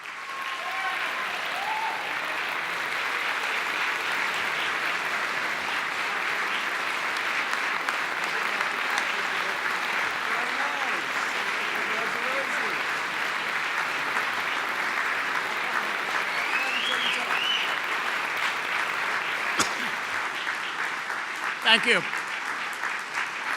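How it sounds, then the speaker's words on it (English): Sustained applause fills the hall for the winner of the 2014 Stevens Honor Award, a steady dense clapping that carries evenly for over twenty seconds before a brief thank-you is spoken near the end. "please join me in a round of applause for the 2014 Stevens Award winner"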